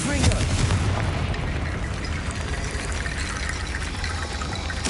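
A Confringo blasting spell cast in a wizard video game, a loud sustained rushing, crackling roar that stays dense and steady throughout, with voice-like sounds mixed in.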